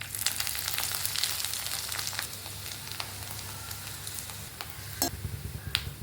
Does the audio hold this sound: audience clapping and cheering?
no